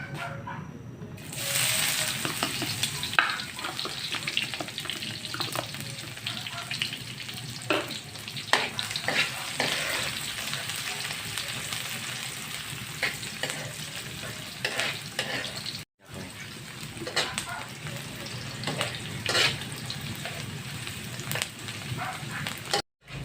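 Deboned galunggong fish sautés in a pan, a steady close sizzle with frequent stirring clatters and scrapes, pausing briefly twice, with no talking.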